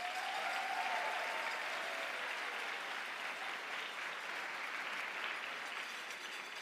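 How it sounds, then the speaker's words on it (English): An audience at a school district teacher of the year celebration gives a sustained round of applause, an even, dense wash of clapping that continues without a break. "let's give them another round of applause"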